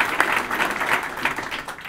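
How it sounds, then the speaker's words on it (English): A room at a police chief's swearing-in ceremony breaks into a brief round of applause for the district attorney, moderately loud and even throughout. "Please give Paul a warm round of applause."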